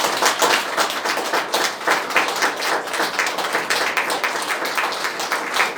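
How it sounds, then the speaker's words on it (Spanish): Congregation at a Sunday church service claps steadily and briskly together, a loud, even roll of many hands with no talk over it. "Dale un fuerte aplauso al Señor"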